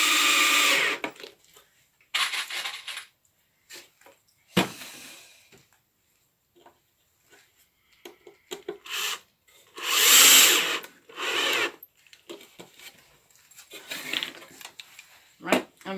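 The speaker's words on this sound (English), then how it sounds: "I'll just use some wee wood screws to hold on the front" A power drill drives small wood screws into the front of a wooden birdhouse, in several short loud whirring bursts separated by pauses.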